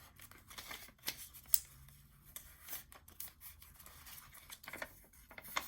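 Scissors snipping the corners off paper for a 12x12 junk journal mini album, a few quiet, separate cuts with soft paper handling in between, close and faint.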